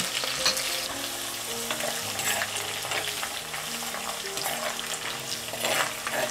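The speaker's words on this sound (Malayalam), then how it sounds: "കടുക് നല്ലോണം ഒന്ന് പൊട്ടിക്കഴിഞ്ഞതിന് ശേഷം നമുക്ക് ഉള്ളിയിടാം." Onion frying in a hot pan with popped mustard seeds, for a Kerala-style tuna fish curry; a steady, close sizzle with stirring scrapes runs throughout, with no talking.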